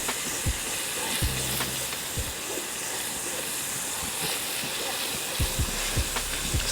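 Seasoned pasta bake ingredients sizzling loudly in a pan, hissing steadily while a utensil scrapes and knocks against the pan in scattered strokes, close up and with no voices.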